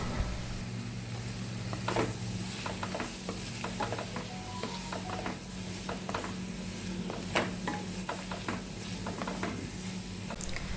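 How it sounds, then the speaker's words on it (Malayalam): Sliced plantain goes into a pan of partly cooked jackfruit and is sautéed, giving a steady low sizzle with intermittent scraping and clacking stirs of a spoon against the pan. "ഇനി ഇതിലേക്ക് നമ്മൾ അരിഞ്ഞു വെച്ചിരിക്കുന്ന ഏത്തപ്പഴം ഇട്ട് കൊടുത്തൊന്ന് വഴറ്റാം."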